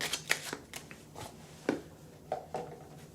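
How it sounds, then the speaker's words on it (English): Soft, close riffling and slapping of tarot cards being shuffled, in a series of quick irregular bursts with brief pauses between. "We're going to shuffle, shuffle, shuffle."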